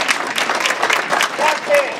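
An audience applauds for people from the San Fernando Valley at a live presentation, with dense, sustained clapping that swells and dips and some crowd voices mixed in.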